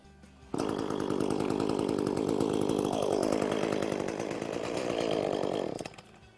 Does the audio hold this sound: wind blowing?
no